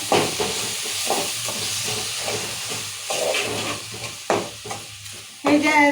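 Mutton curry with salt and coriander powder is stirred vigorously in a hot pan, loud hissing sizzle and steam broken by irregular scrapes and clanks of the ladle against the vessel.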